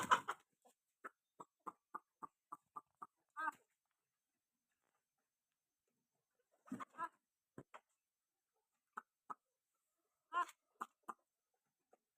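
Chickens at a poultry farm cluck in short, evenly spaced bursts. Steady runs of clucks are separated by quiet gaps, with a few louder clustered calls, all fairly faint and close by.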